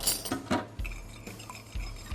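Metal spoon stirring salt into plain water in a cooking pot for a Thai red curry with pork and Thai eggplant, giving light scraping clinks against the pot, steady and close, with no talk.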